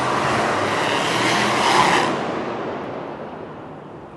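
A loud car with its muffler off roars close by as a steady, broad engine rush, then fades away over the last two seconds as it passes.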